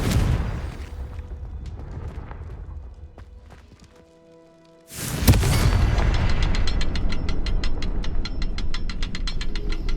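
A Confringo fire spell from Hogwarts Legacy bursts with a sudden loud blast after a quieter stretch, followed by a roaring, crackling wash of sound that stays dense and full to the end, with no talking.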